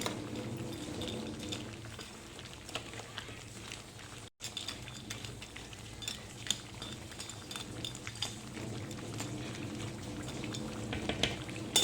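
A pot of crab curry simmers steadily, a dense bubbling and faint spoon clinks filling the scene at close range without any talk.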